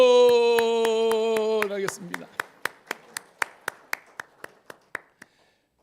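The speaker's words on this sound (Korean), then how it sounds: "박수" Korean Methodist church congregation at a Sunday morning service, a sustained sung or organ tone cutting off, then a dozen sharp, evenly spaced unison claps that quicken slightly and stop, with a brief spoken word at the start.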